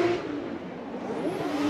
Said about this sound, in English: the gum out Toyota 80 leaves the start line